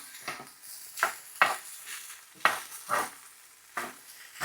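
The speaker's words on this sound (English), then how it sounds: "what I do is I just break up the eggs with my utensils and distribute them" Utensils chop and scrape through scrambled eggs mixed into fried rice in a hot pan, giving a series of distinct scraping strokes with light clinks over a soft background sizzle, close and fairly quiet.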